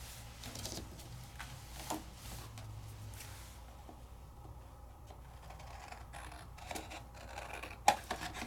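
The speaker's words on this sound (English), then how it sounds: "now I'm going to trim it out" Scissors trim out a die-cut paper piece with faint, quiet snips and scratchy paper rustles, close and soft, with a sharper click near the end.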